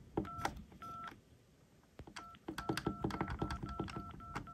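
A series of touch-tone dialing beeps, short bursts in quick irregular succession, with soft button clicks, recorded close and fairly quiet.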